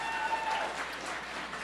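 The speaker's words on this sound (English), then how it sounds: "Give them a nice round of applause." A charity auction audience applauds a bidder, a brief steady wash of distant clapping from a crowd with a faint tone and murmur beneath.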